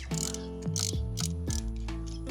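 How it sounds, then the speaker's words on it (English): Hand ratchet breaking loose 8mm bolts on a car's PCV plate, several separate bursts of sharp metallic clicking with short pauses between, loud and close. "So I'm just going to go around here and bust them all loose real quick."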